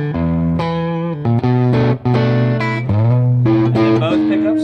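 A PRS SE Custom 24 electric guitar on its bass pickup in single-coil mode plays a sequence of sustained distorted notes and bends through an amp, loud and close with no talking.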